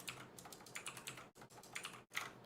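A loud mechanical keyboard clacks under fast, close typing, keys striking in uneven bursts with two short gaps and no voices.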